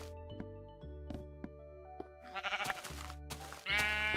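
Several short sheep bleats sound in a Minecraft-style game world beside steady tonal game music and occasional soft clicks, with a louder bleat near the end.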